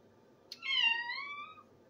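A cat meows back once in a long, rising-then-falling drawn-out call, close and clear against a quiet indoor room with no talking.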